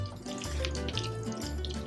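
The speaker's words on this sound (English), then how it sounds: "pour it in gently." Brandy poured gently into a gluten-free dessert pizza mixture, a steady close liquid trickle with a low gurgling undertone running continuously for under two seconds.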